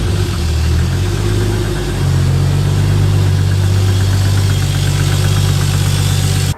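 A tuned Toyota Supra's engine idles steadily during an idle test after fuel relay trouble, a loud continuous low hum with a slight pitch shift early on, then an even, throbbing drone.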